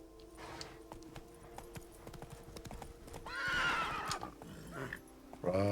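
Hooves of the horse Roach clip-clop in a steady trot in The Witcher 3, with a loud whinnying neigh rising over the hoofbeats near the end.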